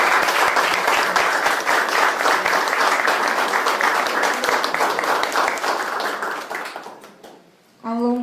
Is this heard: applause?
yes